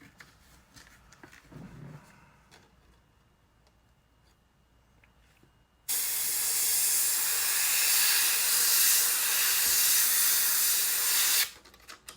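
White paint from a spray gun onto a pumpkin seed car body's flaps and fins through custom stencils: after about six seconds of quiet background, a loud, steady, close airy hiss runs unbroken for roughly five and a half seconds, then stops.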